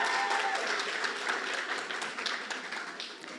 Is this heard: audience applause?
yes